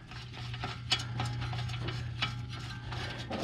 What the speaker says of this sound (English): now we will reinstall our pinch bolt.